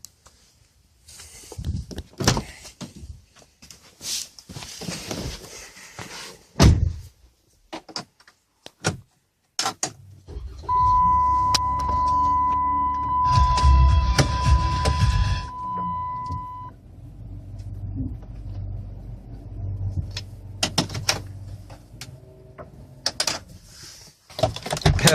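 A Volkswagen Routan minivan weighing close to two tons rolls over small RC helicopter skids from a Blade Nano CP X tucked under a tire. There is a low engine rumble, scattered clicks and knocks, and a steady electronic beep partway through.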